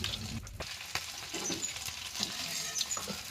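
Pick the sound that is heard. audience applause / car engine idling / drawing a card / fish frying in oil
fish frying in oil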